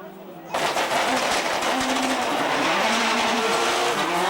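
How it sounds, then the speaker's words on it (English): Rally cars at Rally New Zealand, a Subaru and a Ford Focus, race past with a sudden roar of high-revving engines that stays loud and close, with some tire noise throughout. "Now Burns on the Subaru on the outside"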